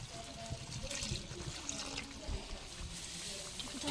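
Water splashes and trickles steadily into a pan of cooking prawn curry, a continuous wet pouring sound close by with faint background noise.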